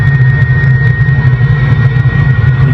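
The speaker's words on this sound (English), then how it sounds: "Beautiful, sweet turbine spooling up right now" A helicopter turbine engine spooling up in a simulator with haptic feedback, a steady loud low rumble and whine holding constant throughout with no voices.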